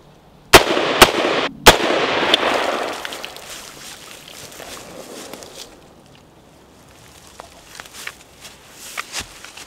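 Three sharp, loud gunshots from an AR-15 pistol fired into a runoff pond outdoors crack in quick succession early on. Each leaves a ringing decay, followed by quieter scattered clicks and handling noises.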